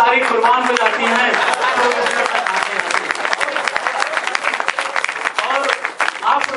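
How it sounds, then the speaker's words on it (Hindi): An audience at a poetry recital bursts into sustained applause, dense clapping that runs steadily and loudly throughout, with a voice speaking over it. "प्लीज इतना ताली मत बजाइए"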